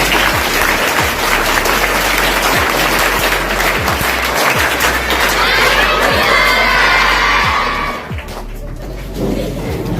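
A classroom of children claps in rhythmic bursts and shouts and cheers loudly together, a dense, close crowd noise that fades slightly near the end.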